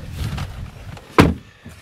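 The driver's door of a Range Rover Sport 3.0 SDV6 Autobiography Dynamic closes with a single solid, close thud after some quieter shuffling of someone getting into the seat.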